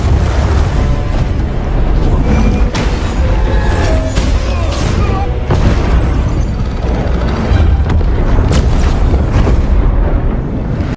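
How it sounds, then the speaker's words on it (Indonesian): A loud, sustained roar of rumbling blasts and crashing debris, with sharp bursts breaking through a dense, continuous wall of noise. "Namun Montes yang melihat kedatangan Taylor, ia pun terpaksa meledakkan peledak yang terpasang di stasiun tersebut"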